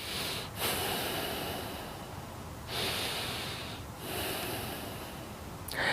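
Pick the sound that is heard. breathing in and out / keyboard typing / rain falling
breathing in and out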